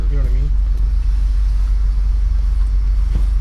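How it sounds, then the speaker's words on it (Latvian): Interior of a parked bus before departure to a final game: a loud, steady low engine rumble fills the cabin while a voice speaks briefly at the start. "mēs esam autobusā un gatavojamies braukt uz fināla spēli"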